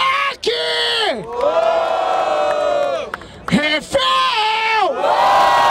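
A crowd at a rap battle semifinal in Barueri, São Paulo cheers, whoops and shouts loudly and continuously. Sustained rising and falling group yells fill the whole stretch.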